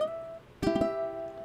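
A strummed acoustic guitar chord held with the middle finger left down rings out after a faint sustained tone, its strum landing sharply and then sustaining evenly, heard alone.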